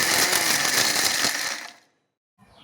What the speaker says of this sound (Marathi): 1 वाटी गूळ घालून हे सर्व साहित्य आपण बारीक वाटून घेणार आहोत.